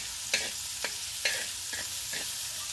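Onion sizzling in a hot pan with a pinch of turmeric while a spoon stirs it, giving steady close frying hiss broken by about five short scraping strokes; no one talks.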